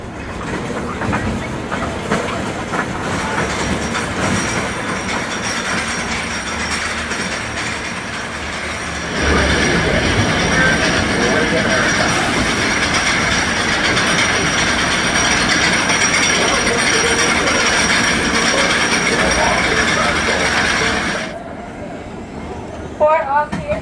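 The Whizzer roller coaster train at Six Flags Great America rolls along its track with a continuous rumbling roar and rattling wheels, growing louder and rougher partway through before dropping off sharply near the end, with voices and a station announcement mixed in.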